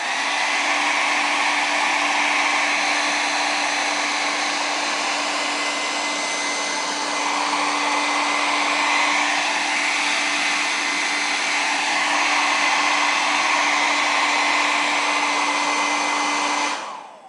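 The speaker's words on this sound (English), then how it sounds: "First, you want to blow dry the cover." Handheld hairdryer blowing on a book cover to loosen and remove its binding, a steady loud whooshing roar with a constant motor whine, running unbroken for the whole stretch and cutting off at the very end.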